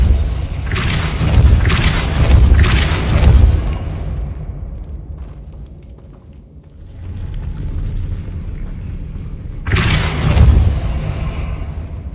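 Spell being cast in a wizard video game, heard as heavy booming, rumbling bursts with mechanical creaks, two loud surges early, a quieter stretch, then another loud burst near the end.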